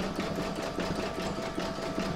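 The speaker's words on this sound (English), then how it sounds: "pop your hoop back into your machine and stitch round number 13, and that's going to do the zigzag stitching along here to join the two pieces" An embroidery machine zigzag-stitches round 13 of an in-the-hoop mandala placemat, joining two fabric pieces: a steady, close, continuous mechanical whir with a fast, even stitching rhythm and no talk.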